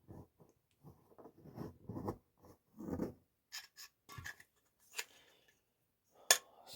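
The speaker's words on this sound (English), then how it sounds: "I'm just going to draw a little line around it" A pen scratches around a penny on an aluminium pop can, drawing a small circle in short rubbing strokes, then a few sharper scrapes and clicks, close and quiet with pauses between.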